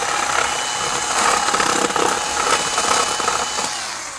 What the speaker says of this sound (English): drill 2 holes side by side and then clean out the middle like this